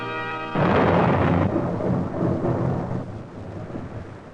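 Rumbling thunderstorm effect: a heavy thunder crash breaks in after a brief tone, then rolls on loudly with rain-like hiss, slowly fading over several seconds.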